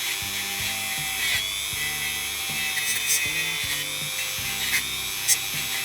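Rotary tool running at its lowest speed, removing rust from a Black Forest quarter-hour cuckoo clock part, a low steady motor hum with stuttering on-off pulses as the bit meets the metal, fairly quiet.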